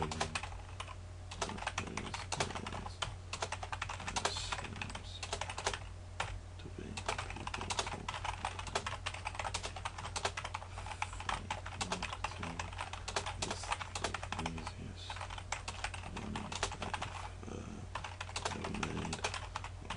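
Rapid, steady typing on a computer keyboard, dense clicking keystrokes close up over a low background hum, continuing for the whole stretch without talk.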